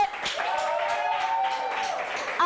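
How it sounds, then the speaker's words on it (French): Continuous crowd applause at a live ceremony for Monsieur Kogwe, dense and even clapping with a held vocal cheer or whistle-like tone over it, fairly loud and close, with no speech. "Applaudissements pour Monsieur Kogwe."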